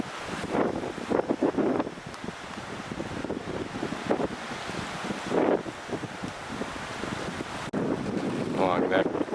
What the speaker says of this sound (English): Cold and blustery today.